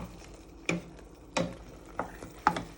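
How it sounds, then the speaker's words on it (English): Japanese curry is stirred in a pan: four distinct scraping clacks of a utensil land at irregular intervals over a soft background simmer, close and fairly clear. "So you just want to keep mixing that together"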